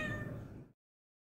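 A single cat meows once, a close, fairly faint cry lasting under a second in a clinic cat kennel room, then silence.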